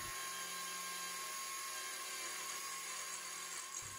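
Cordless drill with an angle attachment drilling 5 mm holes in metal with a Milwaukee bit, a steady high-pitched whine with grinding hiss running continuously at close range, no talking.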